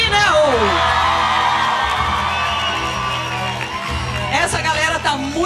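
Loud, dense crowd of fans cheering and shouting for Dani in a TV studio at the A Fazenda final, a continuous roar with whoops and yells, swelling again near the end.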